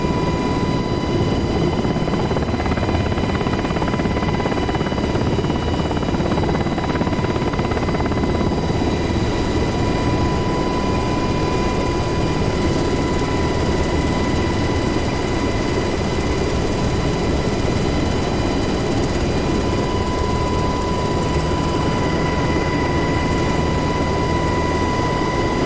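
Steady, loud rotor thump and turbine whine from a UH-60 Black Hawk helicopter in the DCS World flight simulator on a Syria map, a constant close drone with a high engine tone throughout.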